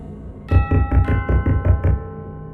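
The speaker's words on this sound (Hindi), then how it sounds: "डोरबेल के साथ साथ जोर जोर से किसी के दरवाजे को खटखटाने की आवाज" A doorbell chimes in a quick run of about seven repeated tones, loud and close, with a dull thudding weight under each ring.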